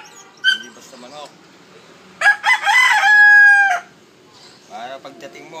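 A fighting rooster crows once, loud and close, a drawn-out cock-a-doodle-doo, with short clucks and bird calls before and after while someone talks nearby.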